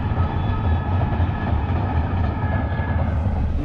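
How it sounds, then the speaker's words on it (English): A train with two engines and three carriages rumbles past beside a lake, a steady, loud rolling roar with a continuous low drone that holds evenly throughout. "Here comes the train."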